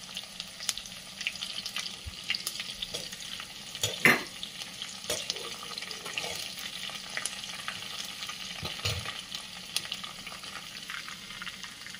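Mustard seeds, sesame, curry leaves and green chilli hit hot oil for a white dhokla (surati idada) tempering, giving a steady close crackling sizzle with scattered sharp pops and one louder burst, no voices.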